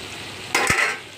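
Eggs are stirred into a prawn curry in a pan: a low background sizzle, then a single close scrape-and-stir burst with a short knock of the spoon, without talk.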